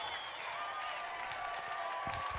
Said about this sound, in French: on les entend t'applaudir